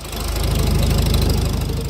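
A 1939 Farmall H tractor engine runs steadily close by, with an even, rapid knocking beat over a loud, continuous mechanical drone.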